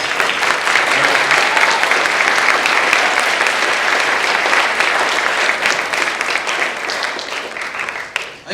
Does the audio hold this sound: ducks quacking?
no